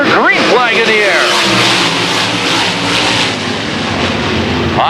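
A field of race cars accelerates at the green flag starting a dirt-track feature heat race, engines roaring and revving loudly together as the pack sweeps past, with a commentator talking over the din.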